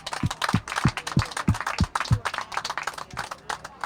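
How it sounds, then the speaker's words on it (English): Audience at a Longmeadow Days 2014 community event breaks into clapping, a dense crowd of claps with a few sharp individual hits, steady and fairly close for the whole stretch with no talk over it. "I think we all deserve a round of applause"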